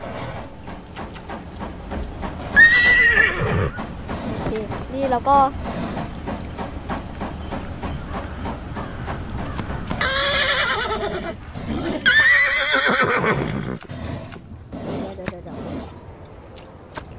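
A horse in the Roblox Wild West game rides fast, with loud neighs and whinnies over a steady rhythmic clatter of hooves, while someone talks over much of the game sound.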